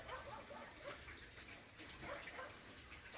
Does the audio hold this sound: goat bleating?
no